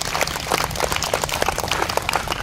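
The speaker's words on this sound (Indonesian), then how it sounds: "Tepuk tangan, jangan tanggung-tanggung." A church congregation claps hard and fast in a dense, continuous wash of handclaps, loud and close, with no talking over it.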